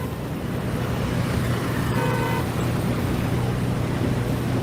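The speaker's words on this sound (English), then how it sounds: "Man, the traffic is crazy out here" Dense, loud street traffic with engines rumbling and vehicles passing continuously, a bus among them, and a short horn-like tone rising over the roar partway through.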